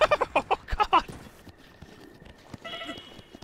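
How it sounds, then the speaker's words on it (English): A goat bleats in Zelda: Breath of the Wild, a short series of nasal, wavering bleats up close at the start, followed by quieter game ambience and a brief higher tone near the end. "It's a goat!"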